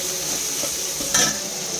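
Chopped garlic and onion sizzle steadily in a pan, close and even, with a spatula stirring and one brief louder scrape partway through.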